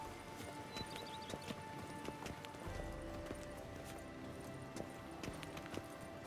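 A horse's hooves clip-clop steadily in The Witcher 3 video game, faint and even over game ambience, with a soft whinny and no talking.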